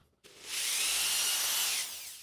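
A jigsaw whirs up and grinds steadily into plywood for over a second, a loud, harsh buzzing close by, then winds down.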